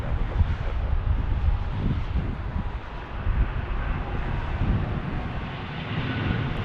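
Steady jet engine rumble from an Airbus 321 landing at Las Vegas in a gusty crosswind, broad and continuous with wind buffeting the microphone.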